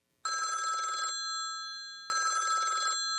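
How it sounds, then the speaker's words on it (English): A red hotline telephone rings loudly and close up in two long electronic bursts separated by a short pause, with no other sound around it. "When this red phone rings, a 4-star general or the President of the United States is supposed to be calling."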